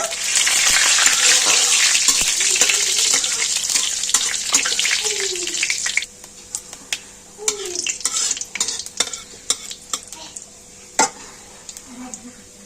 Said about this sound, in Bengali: ফোড়নটাকে নেড়ে ছেড়ে ভেজে নেব